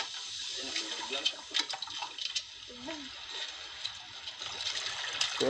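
Water is poured and sloshed into a bucket holding freshly caught fish on a seaside fishing trip, splashing and gurgling in uneven bursts close by while people talk.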